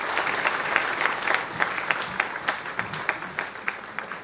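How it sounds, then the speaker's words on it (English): Applause from a student audience welcoming Professor Siddiqui, a steady patter of many hands clapping at moderate distance with sharper individual claps standing out. "Please have a huge round of applause for Professor Siddiqui."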